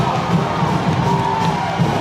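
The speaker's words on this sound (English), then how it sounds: "This crowd has gone nuts." A gym crowd at a girls high school basketball game, Siegel against Riverdale, roars and cheers at the final buzzer. Whoops and shouts layer into a dense, sustained wall of noise that stays loud the whole way through.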